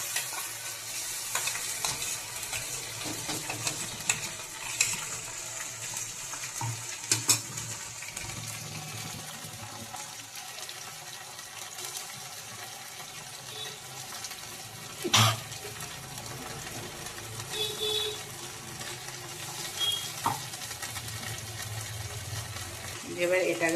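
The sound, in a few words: stirring ginger-garlic-chili paste frying in a pan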